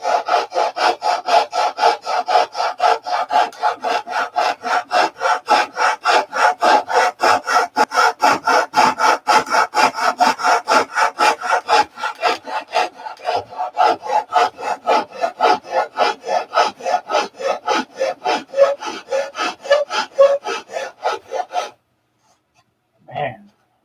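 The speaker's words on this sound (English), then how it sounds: "Get it sanded, get it roughed in and sanded." Wood being sanded and roughed in by hand, with a steady, rhythmic back-and-forth rasping scrape that runs close and loud for about twenty seconds before stopping, followed by one brief knock.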